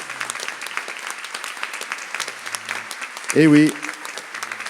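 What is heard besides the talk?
audience applauding volunteers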